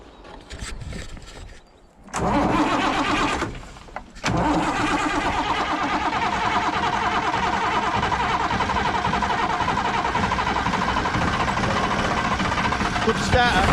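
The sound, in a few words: old Claas engine starting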